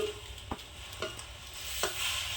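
Ladle stirring a chickpea dal laddu mixture in a pan, a few soft scraping strokes at irregular intervals over a faint background hiss, quiet and close, no talking.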